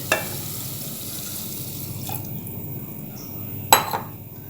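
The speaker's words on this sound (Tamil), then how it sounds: "ஒரு டம்ளர் பால் ஊற்றுறேன்" Milk pours into a pot of rice and lentils for akkaravadisal, a soft, steady liquid stream with a couple of sharp clinks of the vessel against the pot, and no talking.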